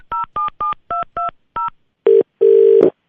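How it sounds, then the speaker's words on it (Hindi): Touch-tone phone dialing a number for a call: seven short, evenly spaced dual-tone beeps, then two longer ringback tones, loud and close with no voices. "आपने जो नंबर दे रखा है अपनी गर्लफ्रेंड का, मैं उस पर फोन कर रहा हूँ।"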